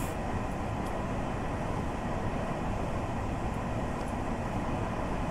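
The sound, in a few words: train running in video game Train Sim World, Long Island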